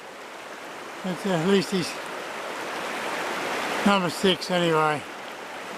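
Fast-flowing river water on a trout stream rushes as a steady, broad hiss throughout, while someone speaks briefly over it in two short bursts.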